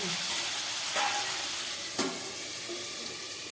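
Salted potatoes cooking in a pan for sabudana khichdi give a steady close sizzle and fry with a few soft stirring scrapes, no voices.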